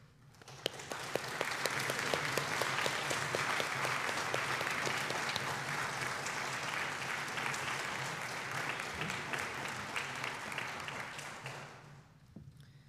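A Sunday service congregation gives a warm round of applause for its nursery volunteers, a steady, dense clapping from many hands that holds for about twelve seconds before fading out.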